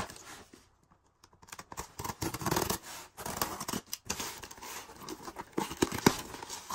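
A toy slide track set's cardboard box is torn and pulled open up close, with bursts of ripping, scraping and crinkling cardboard separated by short quiet gaps.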